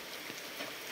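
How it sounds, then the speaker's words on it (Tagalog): Rain falls steadily outdoors as a soft, even hiss lasting about a second, with no talking. "Nabutan kami ng ulan."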